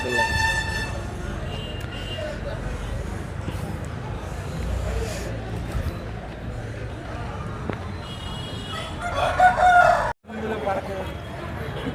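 Native country chickens at the busy Sunday village market in Boddam, Vepada mandal, Vizianagaram district, with a rooster crowing and hens clucking amid a dense hubbub of vendors and buyers talking nearby.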